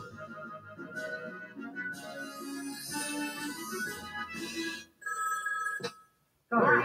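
A telephone rings in a Kirby video game, bright repeated electronic bell tones under busy game music, with a short gap before a final loud burst.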